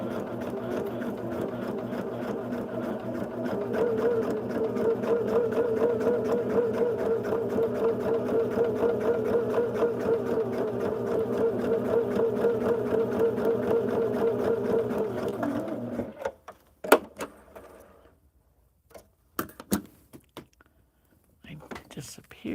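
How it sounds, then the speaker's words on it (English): Sewing machine stitching along a marked line on fabric, a fast steady mechanical whir for about fifteen seconds that then stops, followed by scattered small clicks and handling noises. "Turn it over, and we're going to sew on that line."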